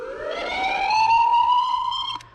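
A siren from the sound module on an MFP Interceptor RC car wails in a long rising tone that holds steady and then cuts off, loud and close with no voices.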